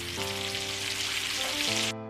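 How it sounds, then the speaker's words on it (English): Shrimp sautéing in a butter sauce in a pan, giving a steady close sizzle and crackle with faint hum beneath, cut briefly by a short gap near the end. "So I'm gonna let it saute here in our butter sauce."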